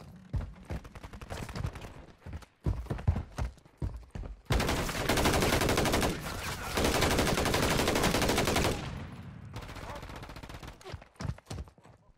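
Gunfire in the Modern Warfare III shooter game: sharp scattered shots, then long sustained automatic bursts that start abruptly and dominate the mix before breaking back into intermittent cracks, with voices heard in between.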